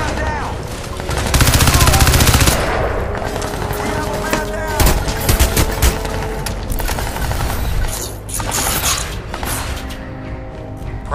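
Loud, dense automatic gunfire from the video game Crysis 2 rattles nonstop at the player, with heavy bursts and booms piling up throughout.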